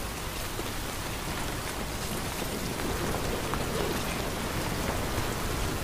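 Rain pours steadily in Death Stranding, a dense, even hiss of drops on surfaces that holds at moderate loudness throughout, with no voices.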